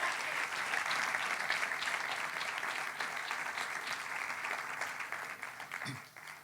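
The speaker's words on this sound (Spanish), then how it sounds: "Dale un aplauso al Señor" Church congregation applauding during a sermon, sustained broad applause from a large crowd filling the room, steady and then fading at the end.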